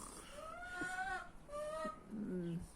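A hen clucks softly nearby in a few short, drawn-out calls with gaps between them, over a low background hum.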